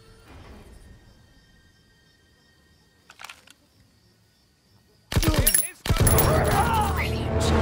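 Gunfire in the World War II shooter Call of Duty WW2, a faint crack early on and then a loud burst of close sharp shots with ringing and shouting-like noise under the game's soundtrack, after a quiet stretch.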